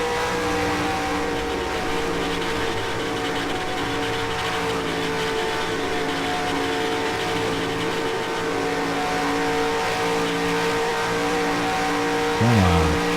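Race cars lapping Darlington in the video game NASCAR Racing 2003, a loud, steady engine drone holding pitch for a long stretch before a brief dip and rise as another car passes near the end.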